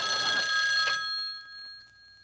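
A telephone bell rings once in a bright, close trill that cuts off and fades, leaving a faint ringing tail.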